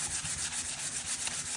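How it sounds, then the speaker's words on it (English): Sanding pad rubbing over a wooden tool handle, a brisk, continuous scratchy hiss with quick back-and-forth strokes, close and alone. "Then I like to come back with a sanding pad,"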